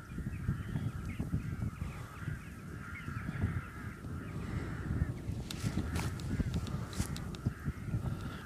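A flock of rooks in an autumn field keeps up overlapping harsh caws, some near and some farther off, sounding continuously over a low background rumble.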